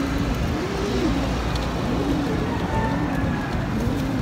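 Pigeons on a neighbor's green roof coo softly in repeated rounded calls, partly masked by a constant rain-like hiss and distant traffic.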